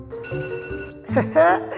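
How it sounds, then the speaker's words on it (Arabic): An alarm clock rings with a steady electronic tone for just under a second. A voice then speaks briefly over it. "المنبه يرن."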